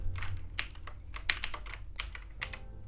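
Computer keyboard keys clack in quick irregular bursts, close and crisp, a handful of keystrokes separated by brief pauses.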